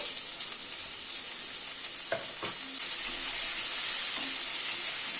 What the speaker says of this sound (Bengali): পেঁয়াজটাকে দিয়ে পেঁয়াজটাকে আবার একটু ভেজে নিচ্ছি।